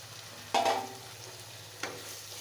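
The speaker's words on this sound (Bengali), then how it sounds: "দিয়ে ডাটাটা আলুটা ভালোভাবে কষিয়ে নেব" Drumstick stems, potato and onion sauté in a pan for a thin golsha fish curry. A steady, close sizzle is broken twice by brief scraping stirs, with no voices.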